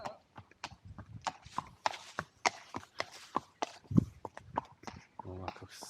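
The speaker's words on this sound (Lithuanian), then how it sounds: "Va, koks smagus arkliukas." A horse walks along a road near Eindhoven, Netherlands, its hooves knocking out a steady run of crisp, irregular clops up close while a person talks over them.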